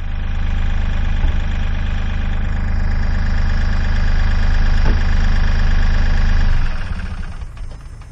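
A heavy diesel Kubota tractor engine idles with a steady low chugging rumble, close and loud, then cuts off and winds down to quiet near the end.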